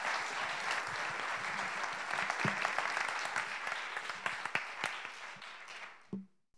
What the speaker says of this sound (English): could everybody give a big round of applause for Mr.